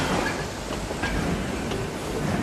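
A train rumbles steadily with a continuous clattering roar from the rail carriages, loud and close throughout, with no voices over it.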